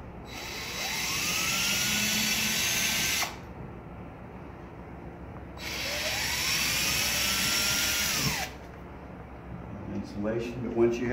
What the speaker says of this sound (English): And when you drill in, all you have to do is go through the drywall